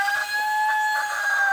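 Young chickens hatched at home clucking in a backyard pen, a steady run of soft, close calls without any talking.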